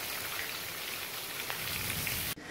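Steady rain falling and pattering on surfaces, a dense continuous hiss close by that stops abruptly near the end.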